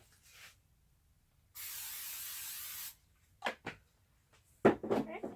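A single sustained burst of aerosol cooking spray, about a second and a half of steady hiss, followed by a few short clicks and knocks nearby.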